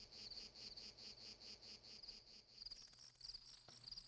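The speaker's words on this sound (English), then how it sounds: "I hear crickets." Crickets chirp at night in Lunar: Silver Star Story, a steady pulsing trill repeating several times per second, soft and unbroken, with a second higher chirping layer joining partway.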